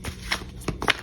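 Quick riffling and slapping of a tarot card deck being shuffled, a few short bursts close up, with no talking.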